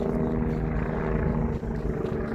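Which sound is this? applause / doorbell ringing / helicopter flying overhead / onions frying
helicopter flying overhead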